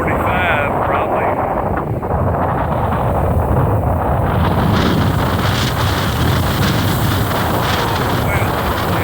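A strong, gusty windstorm wind of roughly 35 to 40 miles an hour roars steadily and loudly close to the microphone, buffeting it throughout.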